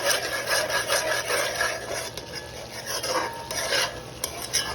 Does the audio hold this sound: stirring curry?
yes